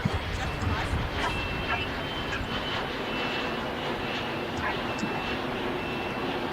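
A JetBlue airliner in Boston Bruins livery departs LAX, its broad engine roar steady and moderately distant, with crowd babble and talk mixed in throughout.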